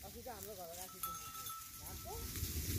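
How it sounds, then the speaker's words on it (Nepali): Sheep on a Nepali hill farm being driven downhill by a herding dog, with several wavering bleats early and another near the end, fairly faint, over steady outdoor rumble and a person talking. "भेडालाई यसरी आफ्नो ठाउँतिर लैजाँदैछ"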